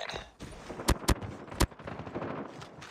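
Enemy sentry gun fire in the M13 Morningstar video game: three sharp, loud shots stand out over a busy din of distant gunfire and battle noise, with no speech.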